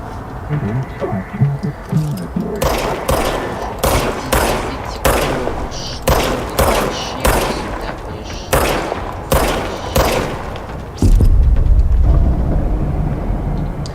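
Gunshots ring out in the video game Control, a series of about a dozen loud, sharp blasts spaced irregularly over a low rumbling backdrop, ending in a deeper sustained boom.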